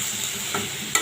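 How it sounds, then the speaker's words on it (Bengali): Potatoes and tomato frying in a pan while being stirred for aloo bhaji, a steady close sizzle with a brief scrape of the spoon and a sharper clack near the end. "নাড়তে থাকবো"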